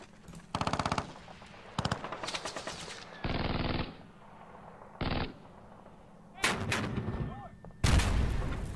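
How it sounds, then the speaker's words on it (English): Machine gun fire in the wargame Panzer Battles North Africa 1941, several separate bursts of rapid rattling shots with heavier booming blasts between them, some short and some longer, spread unevenly across the stretch. "Okay, let's use our machine gun."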